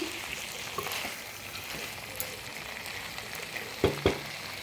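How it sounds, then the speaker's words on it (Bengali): Chicken pieces frying and being stirred in a pan: a soft, steady sizzle with faint scraping, ending in two sharp utensil clacks near the end. "চলুন মাংসটা কষে নিই"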